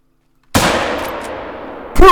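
A single loud rifle shot in theHunter: Call of the Wild, fired at a blacktail buck, bursts out of silence and rolls into a long fading echo, followed by another sharp sound at the end.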